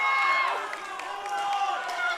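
A competition crowd cheers and shouts encouragement for a powerlifter, a noisy and sustained roar heard under a commentator's voice.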